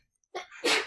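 A single sharp sneeze comes during a classroom lecture, with a quick intake of breath followed by a loud, close burst.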